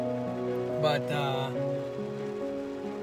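Rain falling at Cheney Lake in Kansas during a fishing outing: a soft, steady patter beneath a low, constant hum, with one brief spoken word near the start.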